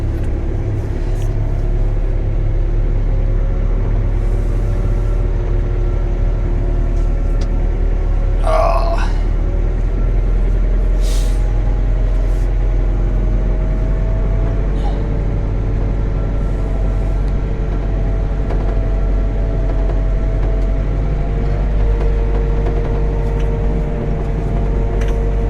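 A CAT TH460B telehandler runs with a constant low diesel drone and steady mechanical rumble as it is driven, with a few faint clanks and a short voice passing over it.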